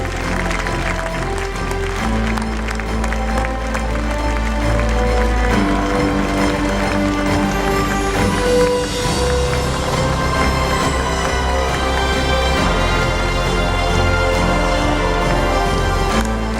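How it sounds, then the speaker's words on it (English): Audience applause at a cultural festival stage event in Mumbai, a steady clatter of clapping blended under loud stage music that continues throughout. "जोरदार तालियां देवी और सज्जनों"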